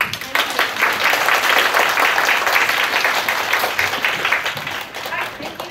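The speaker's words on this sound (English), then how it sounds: "Please show your appreciation with a big clap or applause." Audience applause fills a workshop hall on English-medium teaching after a speech, a dense wash of clapping that stays loud and steady for several seconds before easing slightly at the end.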